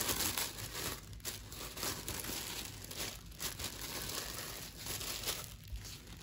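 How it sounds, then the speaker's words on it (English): Plastic wrap crinkles and crumples steadily as it is folded around an item being packed for shipping, close and fairly quiet, with no talking. "Now, most of you know I wrap my things in plastic"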